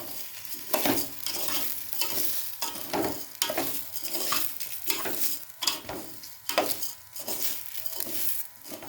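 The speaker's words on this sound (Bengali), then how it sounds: "সব কিছু দিয়ে একসঙ্গে এইভাবে একটু নাড়াচাড়া করে নিতে হবে" A spoon stirs rice with masoor and moong dal in a sizzling pot for vegetarian khichuri, giving rhythmic scraping strokes over a continuous frying hiss, close and clear with no talking.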